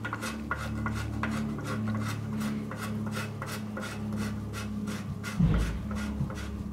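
A threaded bottom bracket sleeve being hand-tightened into a handmade Italian Bertoletti bike frame, giving a regular series of short metallic rasping clicks, evenly spaced and close, with one dull knock toward the end.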